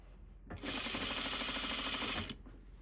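A sewing machine stitching a single roll-up hem on fabric runs in one steady, quiet burst of about two seconds, then stops.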